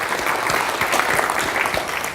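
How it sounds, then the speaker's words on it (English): An audience at an association's annual general meeting claps steadily, a dense, even patter of many hands close by with no voices over it. "Expecting a big round of applause"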